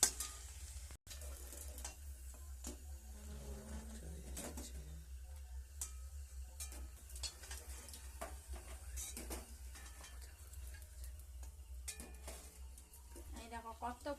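Fuchka puri shells fry in hot oil with a low, bubbling sizzle, mixed with clinks of a metal utensil against the pan and faint background voices.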